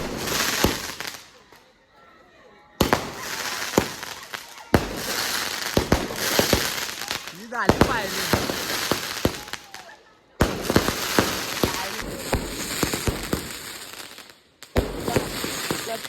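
Firecrackers burst at night during the final night of a 21-day Ganesh festival, with loud, rapid crackling volleys broken by brief pauses, and voices talking amid the noise.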